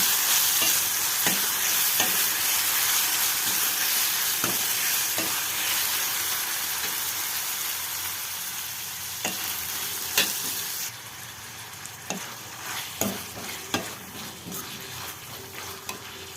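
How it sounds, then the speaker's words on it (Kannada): Garlic, ginger and green chillies frying in a pan with a strong, steady sizzle, stirred now and then with scattered utensil taps against the pan, the hiss easing toward the end. "ಬೆಳ್ಳುಳ್ಳಿ ಹಾಗೆ ಹಸಿಮೆಣಸಿಕಾಯಿ ಚೆನ್ನಾಗಿ ರೋಸ್ಟ್ ಮಾಡಬೇಕು ಎಲ್ಲನೂ"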